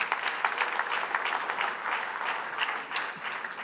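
Sustained applause from a large audience at an official launch presentation of villas in Dubai, dense and steady throughout without any voices.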